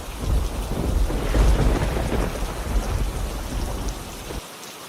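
Heavy rain pours steadily while deep thunder rumbles underneath, the storm swelling loud before the rumble cuts off near the end.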